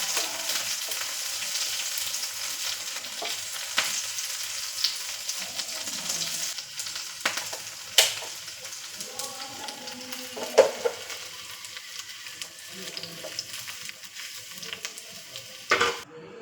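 Shallots, curry leaves and dried chillies crackle and sizzle steadily in hot coconut oil, close and continuous, with occasional sharper pops and stirring scrapes, no talking.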